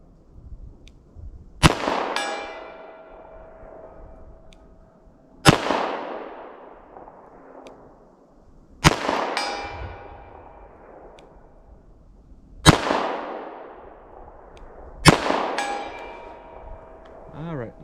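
.38 Special revolver fired at a target, five sharp loud shots spaced a few seconds apart, each ringing out with a long decaying tail.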